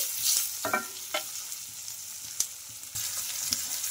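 Carrot and tomato pieces sizzle in a hot pan for a snack recipe, a close, steady frying crackle punctuated by scrapes and taps of stirring.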